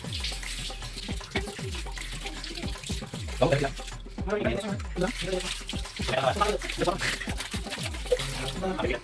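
Tap water runs steadily while a container for chicken pieces is washed and rinsed at a beach barbecue, splashing and sloshing close by under someone talking.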